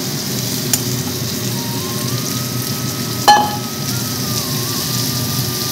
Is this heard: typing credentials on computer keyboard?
no